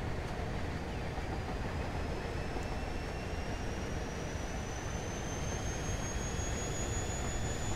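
A BR Class 56 diesel locomotive hauling a string of wagons on the Hastings Line, giving a steady, heavy engine roar with broadband rumble and a thin rising whine, loud and constant throughout, with no talking.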